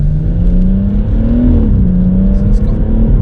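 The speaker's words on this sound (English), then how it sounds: "Straight away the exhaust is less drone, not droney, it's less deeper than mine." A BMW M140i fitted with a Remus exhaust revs up and settles, its engine note rising and falling in a steady, loud, close drone, with voices talking faintly over it.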